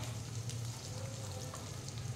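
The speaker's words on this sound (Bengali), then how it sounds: "শিমটা ভাজা হচ্ছে" Flat beans sizzling steadily in a pan over a low gas flame, a continuous close frying hiss with no one talking.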